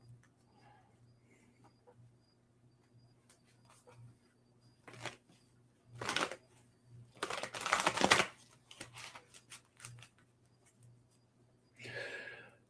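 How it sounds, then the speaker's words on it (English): Tarot cards being shuffled and pulled make close, dry papery riffles and flicks that come in short bursts, the loudest flurry near the middle, with softer handling sounds between and a faint steady low hum in the background. "I'm going to pull a couple tarot cards."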